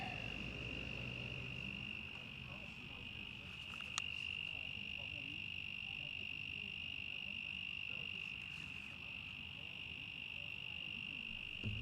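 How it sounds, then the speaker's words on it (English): A cricket chirps close to the microphone at an outdoor bowls club during a novice singles championship. The steady, continuous high trill runs the whole time, with a faint ambient background and a brief click partway through. "I was actually just wondering if the cricket was going through the microphone or not."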